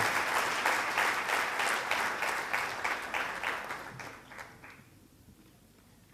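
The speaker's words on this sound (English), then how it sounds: "Give a round of applause." An audience applauds as a guest is invited to the podium for opening remarks; the crowded clapping is steady at first, then thins and fades to near silence over about six seconds.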